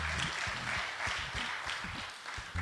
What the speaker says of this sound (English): Clap of praise this morning.